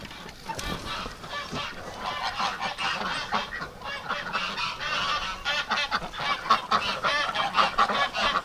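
Canada geese honk repeatedly in a loud, overlapping chorus at close range, the calls growing busier and denser toward the end.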